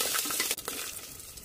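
Cumin, black cumin, fenugreek, urad dal and chana dal fry in hot oil as tempering for foxtail millet upma, making a dense, close crackling sizzle with a faint clink of a utensil midway.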